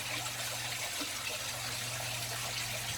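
Water filling a fish tank set up for breeding neon tetras, a steady close rushing and trickling stream with a low constant hum beneath, running unbroken throughout.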